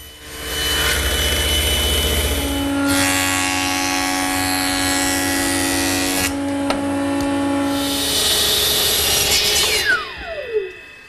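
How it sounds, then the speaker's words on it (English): A power saw cuts a tapered chair leg using a homemade tapering jig, a loud motor whine spinning up, a steady cutting pass with a rising pitch, then spinning down as the blade slows. "Each leg is slightly tapered, so I'm using my homemade tapering jig to make the cut."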